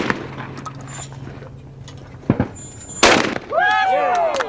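Shotgun shots ring out at an outdoor charity celebrity clay shoot in Arizona: two sharp, separate reports a short way off, the second louder, over faint background murmur and chirping.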